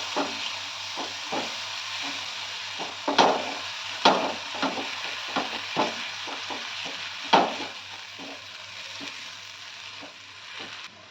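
Spice paste for a Bengali chingri jhal prawn curry frying in a pan, a soft steady sizzle broken by occasional stirring scrapes and taps of a spoon, fairly quiet, with no voices.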